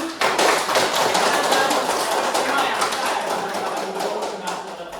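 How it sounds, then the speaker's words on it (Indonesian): A room full of people clapping together, steady and dense applause lasting several seconds, close and loud. "Oke, tepuk tangan untuk kelompok 1 dulu."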